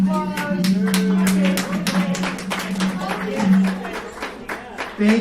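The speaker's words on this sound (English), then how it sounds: "So last but not least, round of applause" A small group in a session room gives a round of applause, distinct individual claps in a loose rhythm over a few seconds, with talking and voices running underneath throughout.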